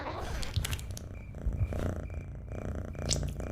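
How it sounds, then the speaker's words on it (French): A cartoon demon character purring in an animated comedy, a soft rhythmic rumbling purr in repeated breathy cycles, with brief clicks and background effects. "Attends, mais il est en train de ronronner."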